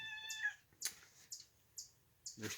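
A cat in a garage gives one clear, short meow, then several faint, brisk scuffs and taps follow at a steady pace, ending in a louder rustle.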